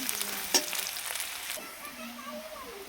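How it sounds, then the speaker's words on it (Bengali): Chopped onion frying in a wok gives a close, steady hiss, with a brief stirring clatter near the start before settling into a softer sizzle; no speech. "পেঁয়াজটাকে একটু ভালোভাবে ভেজে নেব।"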